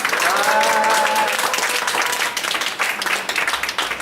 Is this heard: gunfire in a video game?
no